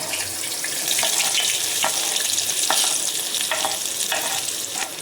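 Garlic, chillies and onion fry in a pan of oil for masala Maggi, giving a loud, steady sizzle with several sharp scraping stirs of a spoon spread through it; no one speaks.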